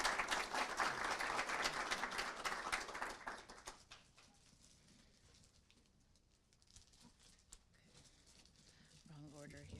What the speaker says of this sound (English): Y'all can clap for her